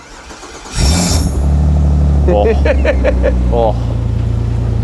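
A car engine cranks and catches about a second in, then settles into a loud idle broken by several quick throttle blips and a final rev, close by, with voices briefly heard.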